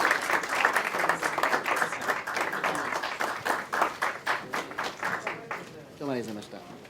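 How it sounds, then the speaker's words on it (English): A crowd applauds steadily at a press conference at the Foreign Correspondents' Club of Japan, the clapping thinning out toward the end, with voices audible underneath. "Could we give a round of applause, please?"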